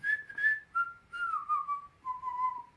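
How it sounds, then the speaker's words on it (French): A person whistles a simple melody alone, a few sustained and gliding notes in short phrases, close and moderately loud, slightly wavering in pitch. "je sais pas très bien siffler."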